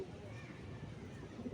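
Giribaz pigeons coo softly inside a loft, a faint, low, murmuring burble under a steady background hiss.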